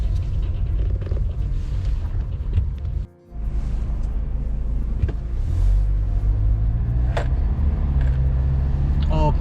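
A Kia Sorento R on a test drive, its engine rumbling steadily and close with road and tire noise, one brief dropout partway, then a rising hum as the car pulls away; a person talks over it.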